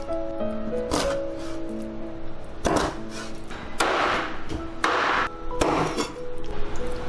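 A kitchen knife chops a whole cooked sea bass into chunks on a cutting board, giving a series of sharp, irregular thuds, close and fairly loud, with faint background music between strikes.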